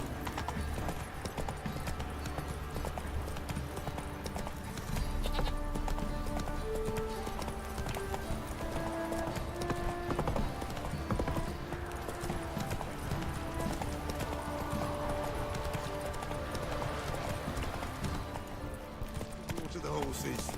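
Horse hooves clip-clop steadily in The Witcher 3 video game, a continuous rhythmic clatter alongside a brief whinny, with voices talking over it.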